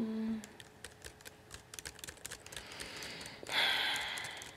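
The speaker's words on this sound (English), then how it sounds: "Type in my email." Fast typing on a computer keyboard, rapid close key clicks in an irregular burst, followed by a brief breathy sound near the end.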